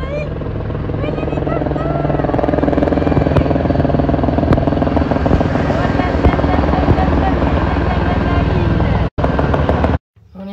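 A helicopter in Monaco drones loudly and continuously nearby with a rapid rotor chop, then cuts off abruptly near the end.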